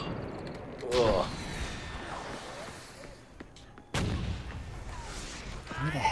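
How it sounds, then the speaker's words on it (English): Heavy artillery blasts in the shooter Far Cry 4, with two loud booming impacts about three seconds apart over rumbling battlefield noise, while a voice talks in the background. "Where the heck is this artillery?"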